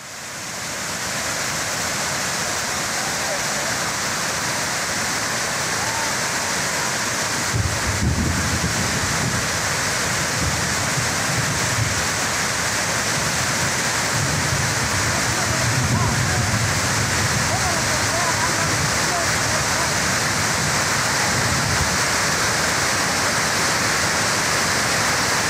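Heavy rain brought by a cyclone, a dense, unbroken downpour roar that stays loud throughout, with some low rumbling surging in partway through.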